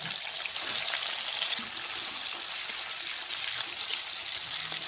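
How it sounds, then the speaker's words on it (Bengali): Steady crackling and sizzling of fish frying in hot oil, a dense hissy texture throughout with no voices. "ওই তেলে আমি মাছগুলোকে ভেজে নিচ্ছি"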